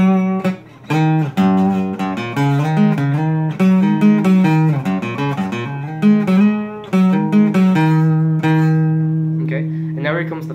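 An acoustic guitar plays a lead passage, single picked notes over ringing low strings in a steady, close, bright line, played alone without talking.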